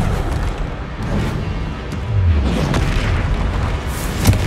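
Spell explosion in the video game Hogwarts Legacy on PS5: a deep, sustained booming rumble with a heavier low thud midway and a sharp pop near the end, loud and continuous.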